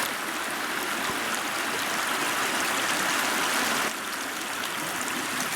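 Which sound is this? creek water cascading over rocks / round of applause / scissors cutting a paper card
creek water cascading over rocks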